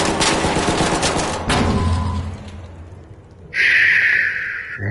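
Gunfire rings out in the video game ARC Raiders: a burst of rapid close shots, then a heavier single blast, followed after a lull by a sharp, bright mechanical sound near the end.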